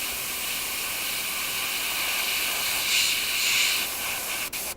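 An airbrush sprays yellow paint during fine micro-airbrushing, making a close, steady hiss that runs for nearly five seconds before cutting off abruptly.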